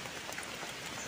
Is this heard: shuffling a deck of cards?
no